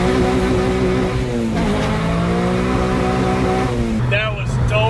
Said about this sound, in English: hitting some REV Limiter and just having another fun time in the K24A